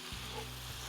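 Steak bites frying in garlic herb butter in a pan, a brief, steady, faint sizzle close by with a low hum underneath and no voices.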